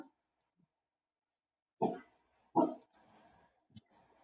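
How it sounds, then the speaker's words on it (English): Dogs barking a few times in quick separate bursts, moderately close, followed by a short yip and quieter whimpering sounds. "My doggies were barking."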